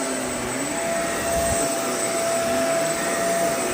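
Shark CarpetXpert HairPro carpet cleaner running in dry-only mode over a freshly cleaned carpet spot, giving a steady, loud motor whine with an airy suction roar and a sustained high tone, close and continuous with no talk.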